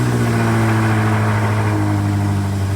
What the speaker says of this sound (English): you want to put your foot on the gas for 15 seconds. You'll hear things under the hood